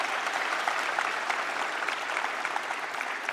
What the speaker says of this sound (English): So yeah, big round of applause.